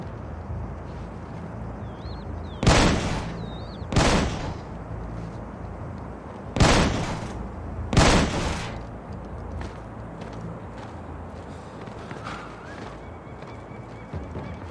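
Gunfire in the stealth video game Splinter Cell Blacklist: four loud, sharp shots in two pairs, a few seconds apart, over a quiet ambient game background with no speech.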